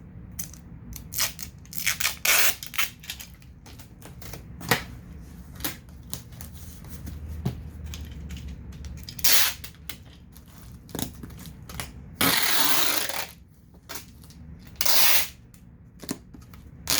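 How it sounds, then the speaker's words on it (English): Packing tape is pulled and pressed across a shipping box stuffed tight with surgical drapes, giving repeated close, loud ripping bursts and crinkly rustles at irregular intervals, with one longer, louder tearing stretch near the end. "I will get this taped up."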